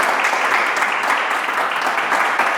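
Applause for an interviewed author at a Spanish-language talk show, a steady, dense clapping from a crowd that holds its level throughout, with no speech on top.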